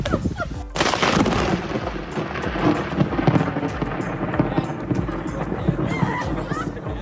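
A lightning strike sets off a loud, sustained rumble of thunder with crackling bursts, rolling on for several seconds after an abrupt onset.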